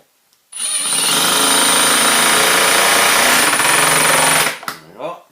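An impact driver sinks a 5x50 Ulti-Mate II Stick Fit screw into soft wood in one continuous loud hammering burst of about four seconds, stopping abruptly, followed by faint talk.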